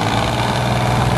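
A pulling tractor's engine idles loudly and close up at a power pulling event, a dense, steady rumbling drone with constant vibration throughout the short stretch.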